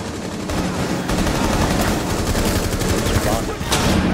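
Rapid video game gunfire from a bomb-defusal shooter match, dense bursts and automatic fire continuing loudly and steadily throughout, with faint voices in the mix.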